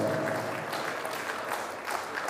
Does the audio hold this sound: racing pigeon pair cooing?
no